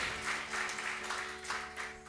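A church congregation applauds during a Portuguese-language worship service, sustained, fairly soft clapping with gentle swells and no voices over it.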